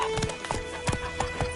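Hooves of Roach, the horse from The Witcher 3, clop in a steady trotting rhythm close by, with a few brief snorting whinny sounds mixed among the beats.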